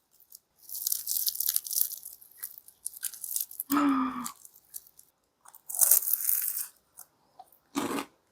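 Crisp snack crunched in several separate bites during a food outing at a Daejeon night market and festival, with sharp close crackling bursts separated by brief pauses and no talk over them.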